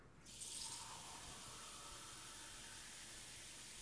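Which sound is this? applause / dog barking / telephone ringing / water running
water running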